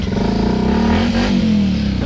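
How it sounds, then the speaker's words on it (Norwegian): A big motorcycle engine revving steadily and loudly, its pitch rising and falling through a sustained drone, heard close with no talk over it. "Åh, jeg hører lyden av sykkelen min inne i myken din."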